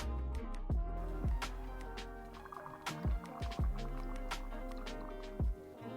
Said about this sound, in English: we got our coolant now topped off to the maximum line and filled up